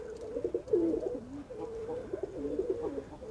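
Close, clear cooing comes from caged fancy pigeons at a Khulna pigeon market. Several rolling coos follow one after another over a low background hum.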